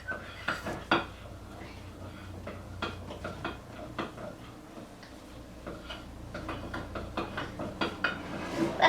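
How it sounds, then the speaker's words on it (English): Orange crinkle cookie dough being mixed in a bowl, with a steady run of clinks and scraping knocks of a utensil against the bowl, close up, uneven in rhythm with a few louder taps. "now we're going to mix the orange, so you guys can watch me"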